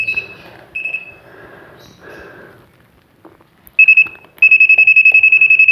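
A non-contact voltage tester detecting a live phase wire sounds its shrill electronic alarm, first in a few short beeps among quiet handling noises, then as a loud, rapid, continuous pulsing tone held close by.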